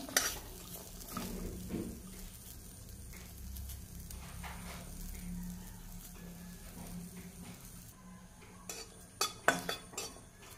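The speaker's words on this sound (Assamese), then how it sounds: "এইখিনি তেল নিদিয়াকৈ অকণমান এনেকৈ ভাজি ল'ম।" Garlic and a piece of bhut jolokia chili are dry-fried in a pan without oil. A spatula scrapes and clinks against the metal with a faint sizzle, and sharper clatters build toward the end.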